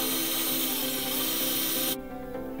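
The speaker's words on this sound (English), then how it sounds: "So the hole's a little bit tight," Power drill boring out a tight mounting hole for extra lights on an Arrma Kraton 6S RC truck, a steady high whine that cuts off abruptly near the end, close and loud.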